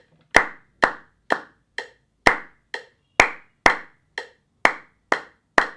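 A group of 22 musicians claps in unison, a dozen sharp, crisp hand claps at a steady pulse with short silent gaps between them, close and dry, with no talking.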